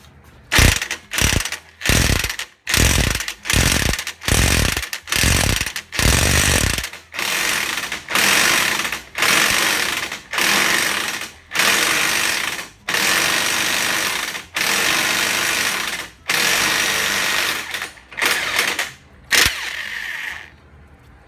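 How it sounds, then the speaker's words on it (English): An impact wrench hammers away at a Nissan Altima wheel bearing in repeated loud bursts, short rattling blasts at first and then longer sustained runs separated by brief pauses, close and harsh with no speech. "we're going to use our impact wrench"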